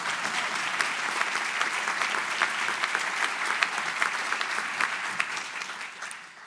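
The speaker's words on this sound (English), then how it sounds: "So yeah, we can clap that." Audience applause at the Skaggs Graduate School 2023 commencement ceremony, a broad, even roar of many hands clapping with scattered sharper claps, sustained at moderate loudness before tapering off at the end.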